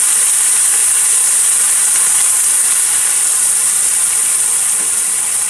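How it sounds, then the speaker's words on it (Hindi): Onion, garlic and green chili paste fries in hot oil with a steady, loud, hissing sizzle that holds unbroken throughout, with no voices. "प्याज लहसुन और हरी मिर्च का पेस्ट बनाया है उसको"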